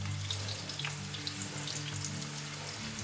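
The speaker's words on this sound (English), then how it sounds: "add in your chopped onions" Chopped onions stir-fry in hot oil in a pot, giving a steady, soft, even sizzle and crackle with a low background hum. The sound runs throughout with no talking.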